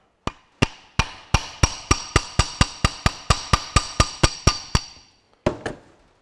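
A hammer knocks at a Ferguson TE20 tractor hydraulic pump part with about seventeen sharp metallic strikes in a steady rhythm, then a short pause and two final blows, loud and close.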